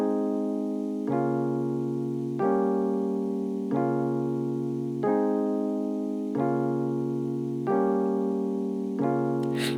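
A basic triad chord progression played on the ELPIANO electric piano plugin with its vintage clean preset: sustained, warm chords change every second or so in a steady, even rhythm, clean and upfront with no voices.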